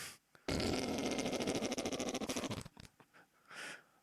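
A long, loud, wet fart sound effect for a whoopee cushion game sputters for about two seconds with rapid flapping pulses, then trails off into brief smaller bursts.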